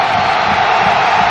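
A basketball arena crowd roaring for Magic Johnson's NBA return, a loud, dense, continuous wall of cheering and shouting with no break.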